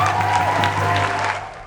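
A crowd applauding and cheering for a performer, a dense sustained roar of clapping with musical tones underneath, fading slightly at the end.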